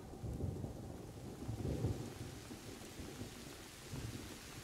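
Thunder and steady rain during a storm in the video game A Plague Tale: Innocence, with low rolling rumbles swelling and fading over a continuous rain hiss. No one speaks.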